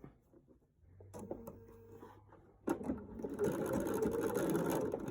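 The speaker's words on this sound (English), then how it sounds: "let's backstitch there" A sewing machine stitches a quilt border, running in short bursts at first, then settling into a loud, steady whir for the last couple of seconds with no talk.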